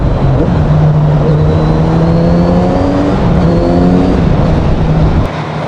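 A stock Kawasaki Z900RS motorcycle engine runs inside a tunnel, a loud, steady low rumble with the engine note rising and falling slightly as it cruises, reverberant and close, with no talking over it.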